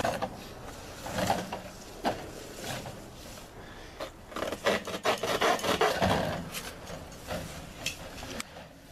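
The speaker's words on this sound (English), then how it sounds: "using a hacksaw, we cut off the strings that are holding the roll together" Hacksaw cutting the strings that bind a roll of drain pipe, close rasping strokes in irregular bursts, fairly quiet with a few louder sawing runs midway.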